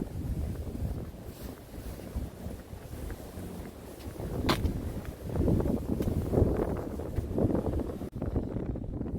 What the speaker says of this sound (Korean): 파도가 이렇게 많이 치는데요